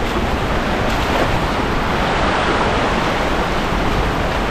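Strong river current rushing loudly and steadily during a fishing outing, a dense broadband roar of water with wind buffeting the microphone throughout and no voices.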